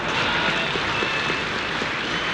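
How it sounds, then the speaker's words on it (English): Crowd applause at a football match between Manchester United and Nottingham Forest, a steady, even roar of many hands clapping, fairly loud and continuous, with no distinct voices. "Good round of applause for Jefferson."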